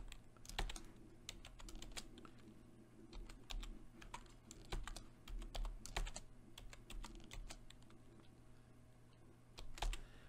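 A password is typed on a computer keyboard while signing in to Scratch, a fast irregular run of light, close key clicks with occasional louder taps over quiet room hum, no talking.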